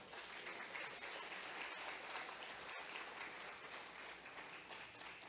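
Sustained congregation applause in a church service, dense and even clapping from many people carrying on without pause, heard at a moderate distance with no voices over it.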